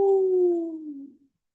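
A voice imitates a wolf howling: one clear, sustained tonal howl that slides slowly downward and fades out after about a second, alone with no other sound.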